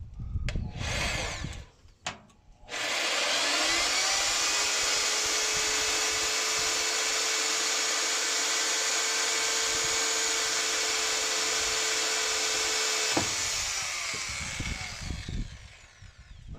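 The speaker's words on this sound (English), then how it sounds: "I'm testing out my new Bauer drill." A Bauer power drill cleans out a hole while fabricating a custom transmission mount for a 1998 Suzuki Sidekick Sport, a close, loud, steady high whine held for about ten seconds after brief start-up bursts, then spinning down.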